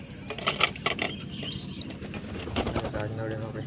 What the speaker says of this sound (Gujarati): તો મિત્રો અહીંયા છે બધા કબૂતર